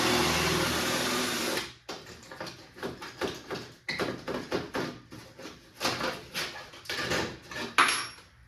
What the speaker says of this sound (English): drill this rivet out